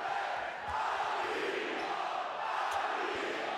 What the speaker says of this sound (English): So now the voice of the Anwil Ludwigsburg supporters are really being heard as the claps ring out for Joseph Sobin.